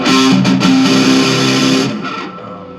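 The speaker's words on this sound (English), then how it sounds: "there's the fuzz tone" Electric guitar played through a fuzz pedal, producing a thick, distorted sustained chord that rings loudly and then fades, with no talking.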